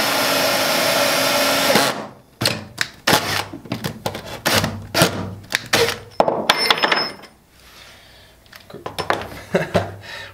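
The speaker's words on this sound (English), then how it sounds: "We can drill our hole." Power drill boring a hole through a workpiece while building a pressure pot holder for resin casting; a loud continuous whir for about two seconds, then short bursts and clattering handling noises.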